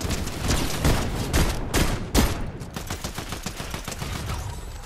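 Rapid gunfire crackles through a Fortnite match in a string of dense, overlapping bursts and sharp shots, fairly loud and close, with no talking.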